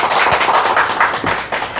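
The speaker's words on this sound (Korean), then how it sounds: "큰 박수 부탁드립니다." A church congregation claps in applause, a brief burst of quick loud claps with a slightly uneven rhythm that fades toward the end.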